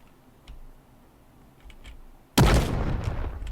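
Machine-gun turrets firing in a tank video game: a sudden loud, dense burst of rapid gunfire erupts after a quiet stretch with a few soft clicks and keeps rattling to the end.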